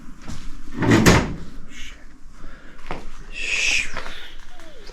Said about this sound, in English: When you shut that door.